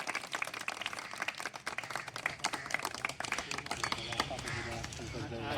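Group of children clapping hands together, a dense patter of claps mixed with voices and talking, fairly close and continuous.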